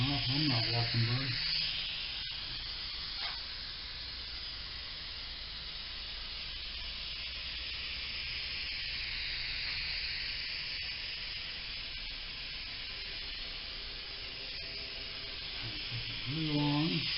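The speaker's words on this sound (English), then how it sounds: "A nice coat of Sure-Tack glue." Steady aerosol hiss of Sure-Tack spray glue being applied while re-covering custom pontoon boat seats, a continuous close spray with a few brief bursts and pauses at the start and end.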